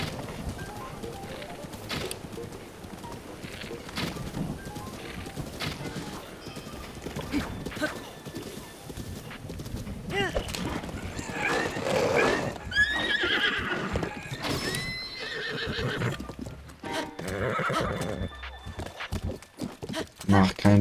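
A horse whinnies and hooves clop along amid game-like sound effects from The Legend of Zelda: Breath of the Wild, while a voice speaks over much of it.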